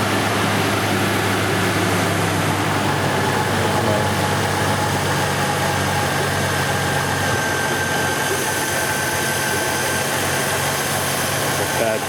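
GM car engine with a variable valve timing fault running at idle, a steady close mechanical hum and rattle without breaks, while someone speaks over it.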